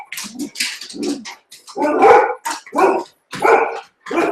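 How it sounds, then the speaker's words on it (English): A dog barks frantically indoors, a run of loud, close barks and yips in quick irregular succession with brief gaps between them. "hopefully you can't hear my dog, who's now absolutely going crazy"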